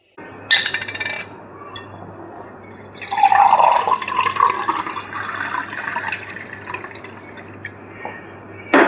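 Coconut water poured into a glass, a close trickling, dripping stream that starts after a few soft knocks and runs steadily for several seconds, with brief splashes and a final clink.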